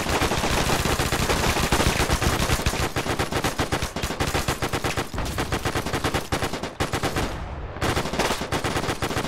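Rapid automatic gunfire from Arma 3 rattles in long, dense bursts, loud and close, with a brief gap before the firing resumes.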